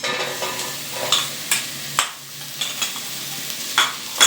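Ash gourd stirred and fried with onions in a pan, giving soft steady sizzling broken by scraping stirs and several sharp clatters of a spoon against the pan, close and alone.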